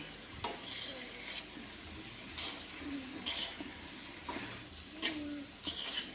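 A ladle scrapes and knocks against a pan while stirring and mashing spiced potatoes and cauliflower, repeated sharp clinks every second or so over a faint background sizzle, fairly quiet and with no talk.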